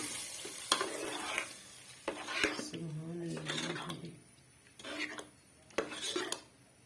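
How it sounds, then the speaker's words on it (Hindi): Garlic and green chilli tadka sizzles and spits in hot oil for moong dal, with stirring and scraping of a pan in short bursts, and a voice talking over it at times. "तड़का हमने इसमें डाला है कि लहसुन और"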